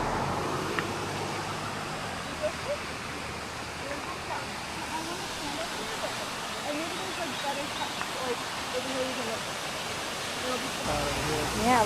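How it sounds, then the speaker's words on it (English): Waterfalls in a Shenandoah Valley state park in Virginia give a steady broadband rush of falling water, constant and fairly distant, with faint voices and occasional small sounds over it. "I could seriously just stand there and watch those waterfalls for so long"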